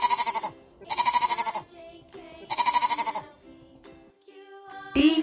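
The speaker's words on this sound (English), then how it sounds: "S for sheep." Sheep bleating close and clear, three long wavering bleats with short quieter calls between them and a sharper cry at the end.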